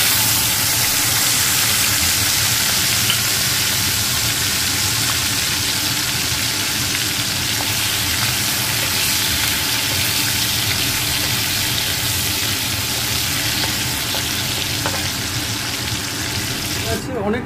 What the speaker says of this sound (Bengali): হলুদটা, চিংড়ি মাছগুলো ভাজা চল।